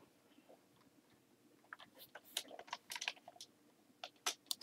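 Keystrokes on a computer keyboard, fairly close and quiet, come in irregular bursts of sharp clicks that grow denser midway and pick up again near the end, with no voices.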